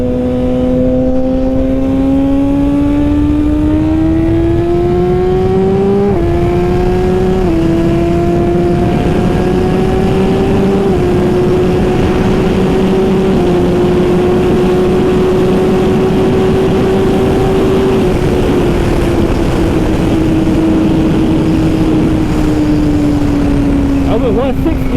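A 2021 Suzuki GSX-R1000R motorcycle with a Brocks full exhaust accelerates hard, its loud engine note climbing through several gear changes, with brief dips between shifts, against heavy wind roar.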